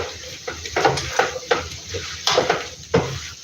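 Mixed vegetables, including parboiled cabbage, are stir-fried in a pan, with a steady sizzle under repeated scraping and clacking strokes of a utensil against the pan, in an irregular rhythm.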